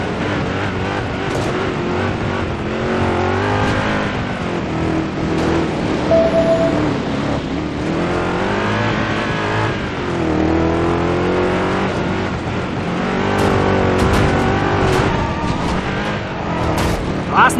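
A game car drifts and revs through city streets in Driver: San Francisco, a loud sustained engine roar with rising and falling pitch sweeps and music-like layers throughout.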